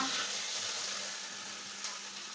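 A Kerala-style snack cooks in oil with a soft, steady sizzle and hiss that is close and fairly quiet, with no talk.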